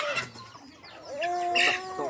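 Chickens cluck close by in short, uneven bursts, with one drawn-out, rising call near the end; no talking.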